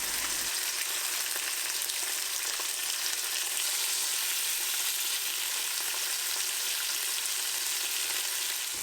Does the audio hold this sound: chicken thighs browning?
yes